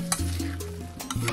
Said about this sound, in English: It's the perfect time for us to open our wok and mix the vegetable picadillo.